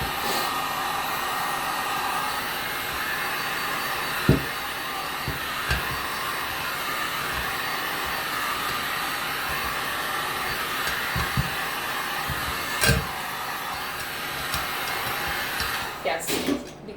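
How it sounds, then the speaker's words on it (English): A heat gun blowing hot air over a resin dish to cure it, giving a steady, close airy whoosh throughout with a few faint clicks and knocks and no clear talk. "careful when you're using a heat gun."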